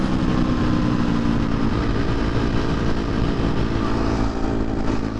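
A 2023 KTM 250 XC-F dirt bike ridden on the street in sixth gear, its engine a loud, steady, close drone with a dense buzz held throughout without pause.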